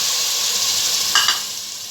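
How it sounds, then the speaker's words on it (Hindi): Spice masala with ground tomatoes frying in hot oil, a steady loud sizzle with a brief stirring scrape in the middle. "अच्छा ये देखिए हमारा मसाला फ्राई हो गया।"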